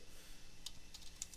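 A few quick keystrokes on a computer keyboard, entering a search for an Icom IC-7300 USB driver, tapped lightly and close against a quiet room hiss.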